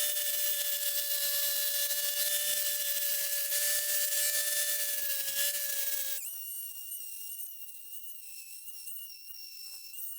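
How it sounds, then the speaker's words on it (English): An angle grinder fitted with a concrete disc roughens a surface, giving a loud, continuous high whine that jumps sharply higher in pitch partway through and keeps going. "Using the hand sander was taking too long, so I decided to use the angle grinder with a concrete disc and roughen up the"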